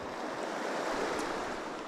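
Rock Creek in Montana streams past during fall fly fishing, heard as a continuous, even rush of flowing water with no voices.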